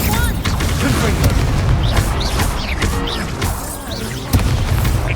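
Repeated Confringo blasting spells burst in a Hogwarts Legacy battle, a string of booming impacts and crackling blasts over continuous spell noise, with a sharp loud hit near the end.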